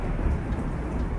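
Lightning strike with heavy rain and thunder, a dense, loud, continuous roar of rainfall and low rumble filling the whole moment, no voices.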